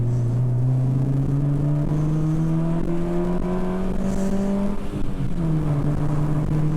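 A Honda Fit GD3 engine revs up with a rising exhaust drone, climbing in pitch, briefly dropping as it shifts, then pulling steadily again.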